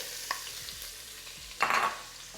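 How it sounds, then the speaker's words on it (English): Onion dropped into a hot Dutch oven for braised short ribs, giving a short burst of frying and stirring near the end after a quiet stretch with faint clinks. "to the same pot, we're going in with some onion"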